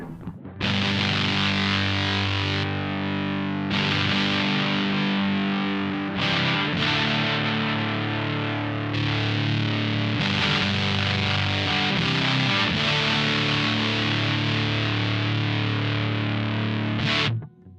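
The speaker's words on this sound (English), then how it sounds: "a pedal that is designed to be the fuzziest of fuzz" A heavily fuzzed electric guitar played through a Tym Guitars Black Mud fuzz pedal plays sustained, saturated chords in several long phrases with brief breaks between them. There is no talking.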